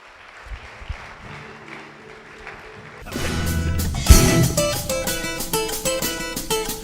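A church congregation applauds Jesus, the clapping bursting in loud and dense after a quieter stretch and carrying on steadily alongside tonal music.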